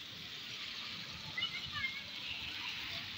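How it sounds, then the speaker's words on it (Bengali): Heavy rain pours steadily on a roadside with passing buses and vehicles, a dense, continuous hiss with small splashes and a slight swell midway, fairly close and with no talking. "বৃষ্টিটা অনেক জোরে পড়তেছে।"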